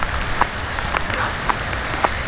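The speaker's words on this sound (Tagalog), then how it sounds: "So, ayun, grabe yung bagyo guys. Ilang araw na tong ganito." Heavy rain pours steadily during Typhoon Enteng, a dense broadband wash with scattered louder drops and splashes landing close by, with no talk over it.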